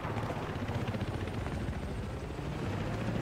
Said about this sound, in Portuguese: Helicóptero, me ajude.